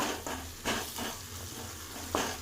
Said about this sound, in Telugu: అల్లం పేస్ట్ ధనియాల పొడి పసుపు వేసుకొని అల్లం పచ్చివాసన వేసేపు ఫ్రై చేసుకొని